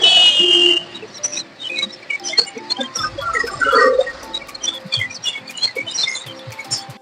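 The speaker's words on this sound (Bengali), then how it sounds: "শুনতেই পাচ্ছেন পাখির কিচিরমিচির" Birds chirping near the Gorai bridge at Kamarkhali over the river, many bright tweets and calls close by, scattered and irregular, over light ambient noise.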